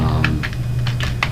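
Someone types a short task title on a computer keyboard, with several quick, fairly loud keystrokes over a steady low background hum.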